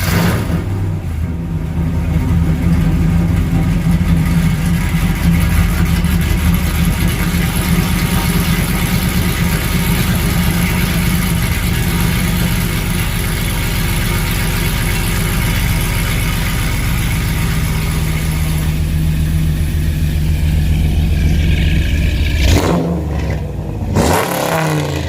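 A cammed Ram truck engine idles loudly and lumpily through an open electric exhaust cutout, with a choppy, uneven exhaust rumble, running without pause for most of the stretch before briefly cutting off near the end.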